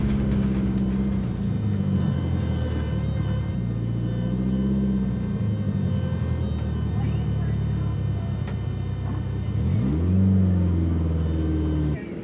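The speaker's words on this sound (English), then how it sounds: "They called up Test and Tune one more time, so we went back up to make a final pass." Turbo AWD Eagle Talon race car at a drag strip during test and tune, a steady heavy engine rumble with revving swells, fairly far off, with voices in the background.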